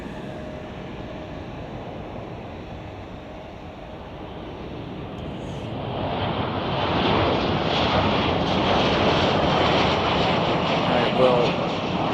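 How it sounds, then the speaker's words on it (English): A Spirit Airlines Airbus A321 arrives at Chicago O'Hare, its jet roar building from a distant rumble to a louder broadband wash over about twelve seconds, with a brief spoken word near the start. "you're looking at Spirit Airlines Flight 1068 from Los Angeles. It's a Boeing. No, it is not. It's an Airbus A321."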